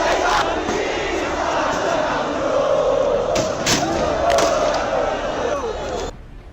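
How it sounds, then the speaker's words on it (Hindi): Thousands of young protesters in Nepal shouting against the government, a loud continuous roar of massed voices with a few thuds, cutting off abruptly near the end. "हजारों की संख्या में युवाओं की ये भीड़ हाथों में विरोध का पोस्टर लिए सरकार के खिलाफ खुलकर अपनी आवाज बुलंद कर रही है।"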